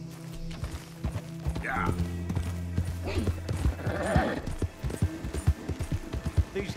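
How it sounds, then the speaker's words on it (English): Horse hooves clip-clop in a steady, uneven rhythm on a road, close by, with a brief whinny and a short spoken word from a person. "Could you please control your horse?"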